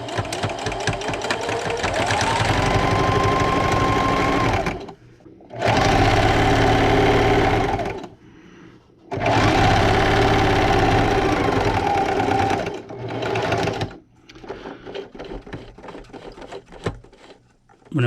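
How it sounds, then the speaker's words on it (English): A sewing machine stitches fabric for a patriotic table runner along the presser foot edge, running in loud steady bursts with short pauses between them and a few quicker, lighter stitches at the end. "I'm still just going to run my fabric along the edge of my presser foot"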